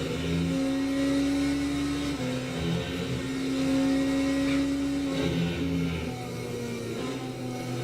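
GT3 race cars in a racing video game drone past with steady, sustained engine whine, mid-pitched and fairly constant with slight shifts in tone, no voices over it.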